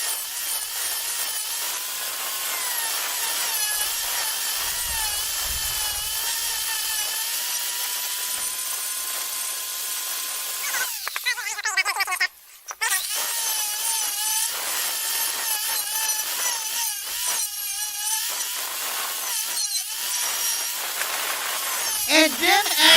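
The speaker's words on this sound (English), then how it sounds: "That tool sounds like a drill. Like at a dentist's office." A high-pitched power tool whines steadily like a dentist's drill, its pitch wavering as it works, with brief harsh bursts midway; a person talks over it.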